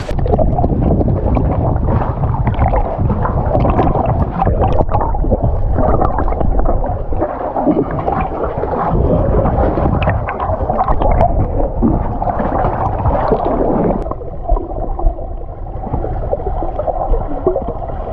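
A rowboat on a large creek near Şile, with steady broadband water and wind noise running loud throughout and no voices.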